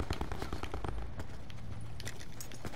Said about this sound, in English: Yeah, I hear his footsteps.